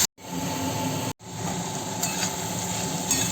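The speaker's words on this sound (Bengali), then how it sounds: "বেবিকর্ন আর আলুটা ভাজা হয়ে গেছে" Pieces of baby corn and potato sizzle in oil in a pan as a spoon scrapes and stirs them, a steady close frying hiss with two brief cuts near the start.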